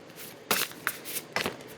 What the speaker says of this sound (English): These cards are pretty big, so I can't really shuffle them well.